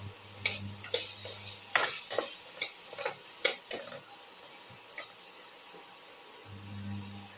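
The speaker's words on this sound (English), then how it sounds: "turmeric powder, salt, keep on sauteing." Shallots, cucumber and cumin sautéed in a pan with turmeric powder and salt: a faint low sizzle under a run of crisp spatula scrapes and clicks, then a quieter stretch near the end; no talking.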